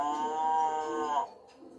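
A toy sounds a cow's moo: one steady, sustained low call lasting over a second, then it stops abruptly and the clip goes nearly quiet.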